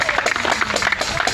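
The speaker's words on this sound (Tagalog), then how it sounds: "Pwede po ba akong mangingi ng palakpak lang po?" Brief burst of audience clapping at a church skit performance, a short scattered round of claps from a small crowd, fairly close and lively.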